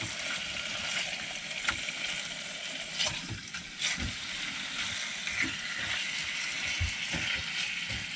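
Food frying in a pan on a stove inside a parked camper van, a steady sizzle and crackle with scattered pops, close and moderately loud, no talking.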